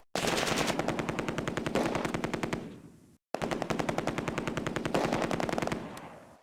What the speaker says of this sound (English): There is another explosion from the Jagdpanther as the ammunition cooks off.